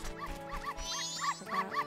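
Small yappy dogs bark repeatedly at the dog race in the video game The Legend of Zelda: Majora's Mask, a quick run of high, game-style barks over a steady musical background.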